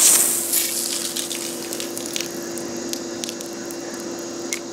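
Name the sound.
hose spraying water onto a house wall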